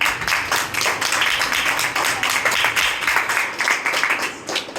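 A congregation applauds at a church service, a dense, sustained wash of clapping that stays loud throughout with slight swells and no clear talk over it.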